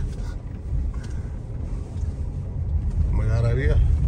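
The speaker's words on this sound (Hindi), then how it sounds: "भाई ऑफ रोडिंग ट्रैक पर उतर आए हम गाड़ी लेके," A car rolls along an off-road track near Jaisalmer, its low engine rumble and wind buffeting steady and close while someone talks over it.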